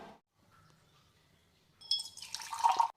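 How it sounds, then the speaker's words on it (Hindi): Water poured into a bowl of flour to make roti dough in a home kitchen, a brief splashing, clinking pour that starts after a quiet stretch and grows louder near the end. "अभी पानी डाल।"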